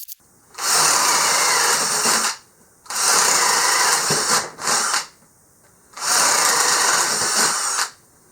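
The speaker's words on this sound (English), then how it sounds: "the drill with the brushed motor" A Hart brushed-motor cordless drill whirs in three separate bursts of about two seconds each, loud and close, with brief quiet pauses between runs.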